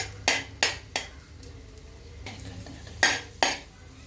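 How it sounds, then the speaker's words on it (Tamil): Cashews fry in a pan while a metal spoon stirs them, making five sharp, loud scraping strokes against a faint frying hiss, with gaps of near quiet between them and no voices. "அது கொஞ்சம் ப்ரௌன் ஆக வர கிண்டிகிட்டே இருக்கணும்"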